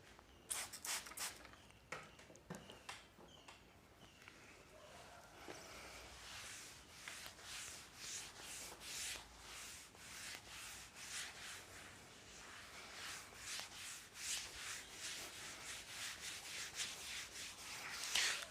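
A teacher rubs writing off a classroom board in quick, repeated scrubbing strokes, faint and close, with rhythmic swishes lasting throughout and no talking.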